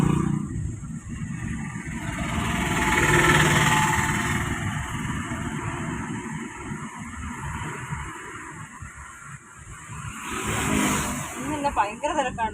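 A manual car drives through town traffic, its engine rumbling and rising as it revs and pulls away, with someone talking over it the whole way.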